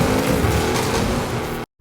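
Video game vehicle engine approaching, a loud, steady roar with tire noise that cuts off abruptly at the end, heard alone without talking.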